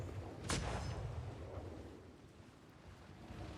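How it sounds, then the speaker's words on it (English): A single heavy boom from a warship's large cannon in a naval video game, loud, followed by a long rumbling decay with wind-like noise and no talking. "Large cannons should be in range. Go ahead, large cannons. Fire when you have a shot."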